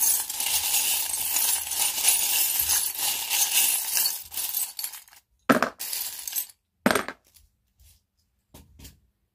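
Small metal charms dropped onto a tray during an oracle card reading, a dense run of clinking and jingling that breaks into a few separate sharp clinks, close, with no talk.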